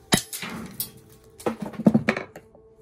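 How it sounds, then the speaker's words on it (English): Hammer blows smashing a desktop computer power supply's AC step-down transformer, a hard thunk followed by a cluster of sharp metallic impacts and rattles, close up with no talk. "Smash it with a hammer."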